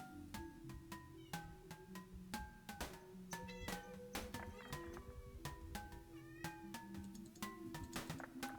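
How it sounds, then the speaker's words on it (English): A pet cat meows repeatedly in the background, short rising calls at a steady pace over a constant hum of game sound, no voices. "My cat in the background."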